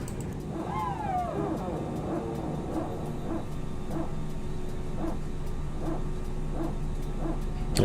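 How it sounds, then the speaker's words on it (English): Power transfer unit of a ToLiss A319 with IAE engines in X-Plane 11, heard while engine number two starts: a rhythmic barking pulse repeating about twice a second over a constant cockpit hum, with a brief whine near the start. "Look at that sound of the PTU."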